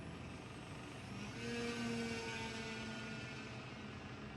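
Simulated E-Flite 1.5 m P-51D Mustang model plane in the RealFlight 9.5 simulator making a strafing run, a steady engine drone that swells briefly as the plane passes, then holds at a constant level, with no voices.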